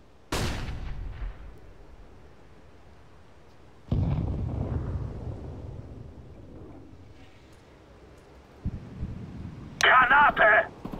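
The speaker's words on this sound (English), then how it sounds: "Flashbang." A flashbang grenade bursts in Counter-Strike: Global Offensive, a sharp loud blast that decays into a long fading rumble, followed by a second, weaker impact and then a high ringing tone near the end.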